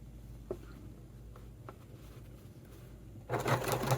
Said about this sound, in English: as I sew over that D-ring again